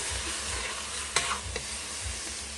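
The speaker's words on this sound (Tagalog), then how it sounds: "Gisa natin yung karne guys." Meat sizzles steadily as it is sautéed in a pan, a loud continuous frying hiss close by, broken by a few brief scrapes of stirring.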